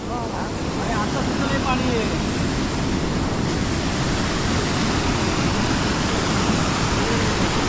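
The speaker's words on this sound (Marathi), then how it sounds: "हा ओढा आपल्याला क्रॉस करायचा आहे पाण्याचा फ्लो भाग किती सुरक्षित" A mountain stream rushes through the main Sahyadri range in Konkan after rain, a steady broadband roar of flowing water close by that fills the whole stretch evenly.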